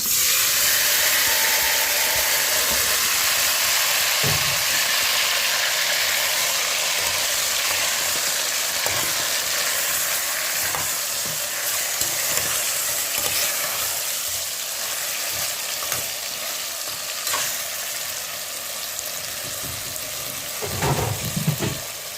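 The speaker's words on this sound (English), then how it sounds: "So we're going to add the coffee to the pot." Coffee poured into hot oil in a pot for a Jamaican brown stew of turkey necks sets off a loud, continuous hissing sizzle that lasts a long stretch, with a few scattered knocks and no talking.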